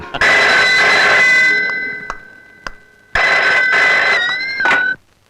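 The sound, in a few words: telephone bell ringing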